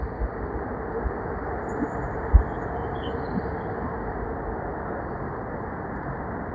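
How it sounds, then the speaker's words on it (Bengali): Dubai Metro train running on the elevated track overhead in Bur Dubai, a steady broadband rumble of rails and traffic that holds level throughout with a single brief knock midway. "আর দেখুন ওপর দিয়ে মেট্রো যাচ্ছে।"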